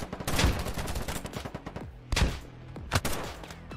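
SCAR rifle shots in a first-person shooter game, a few loud, close cracks spaced apart among rattling background gunfire.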